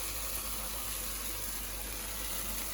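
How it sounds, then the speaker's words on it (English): Water pours steadily into a cooking pan while soupy dumplings are being made, a continuous even rush with no break. "I'm putting this much water because I want it more soupy."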